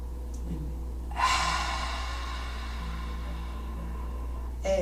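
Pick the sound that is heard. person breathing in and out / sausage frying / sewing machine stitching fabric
person breathing in and out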